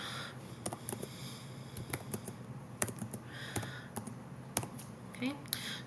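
Typing scores on a computer keyboard: scattered sharp key clicks and taps in irregular clusters, close and moderately quiet, with faint breathing between strokes.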